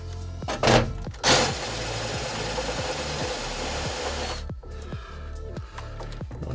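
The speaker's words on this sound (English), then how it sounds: "And then the fun part, deburr it." Hand deburring tool scraping around the cut edge of a fitting in a desk build, giving a continuous close rasping rub with a few sharper scrapes at the start, then short repeated strokes.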